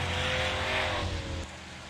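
Race cars roll down pit road at Darlington Raceway, a steady broadband engine roar that holds loud, then drops noticeably in level toward the end with no talk.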